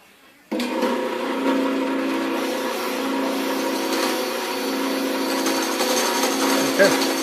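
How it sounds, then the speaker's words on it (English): A drill spins a round-head screw against a grinder, grinding it down with a steady, loud whine that starts abruptly and holds at an even level for several seconds, with no talk over it. "I'm gonna put it in the drill, grind it down, clean it up until it gets just like that."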